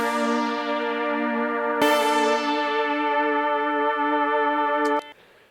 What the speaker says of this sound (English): but together they sound like this.